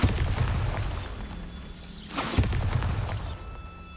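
A Bombarda spell blast in Hogwarts Legacy, a loud, close boom with shattering debris, followed by a second swelling burst and a rumbling tail.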